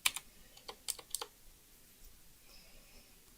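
Typing on a computer keyboard, a few quick clustered clicks of keys early on and then quieter scattered taps, faint and close with no voices.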